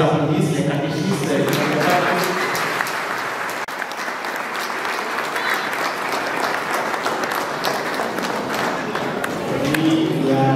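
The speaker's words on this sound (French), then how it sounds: "Je prends les applaudissements, les catéchistes." Sustained, loud applause from a church congregation at a baptism, honouring the catechists, a dense crowd clapping that continues steadily for about ten seconds with scattered voices mixed in.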